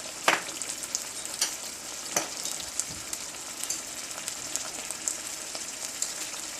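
Tomato puree sizzles and spatters steadily in a hot pan while paneer butter masala is cooked, with a dense hiss broken by sharp pops and the scrape of a stirring spoon; no one speaks.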